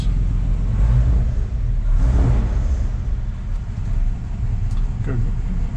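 A 1951 GMC Series 100 truck engine idles steadily up close, a continuous low rumble with slight swells, while someone talks over it.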